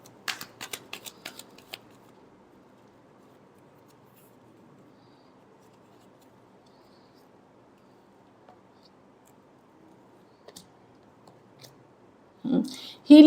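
Tarot cards shuffled by hand, with crisp riffling and flicking bursts close up at the start and again near the end, and a quiet low murmur in between.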